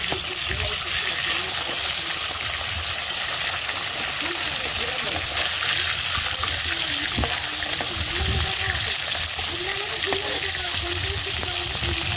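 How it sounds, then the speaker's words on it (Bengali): Fish frying in hot oil after being flipped to cook the second side, a steady broadband sizzle running throughout with occasional clinks and stirring, and a voice talking intermittently over it. "এবার আর এক পিঠ ভাজার জন্য উল্টে দেবো।"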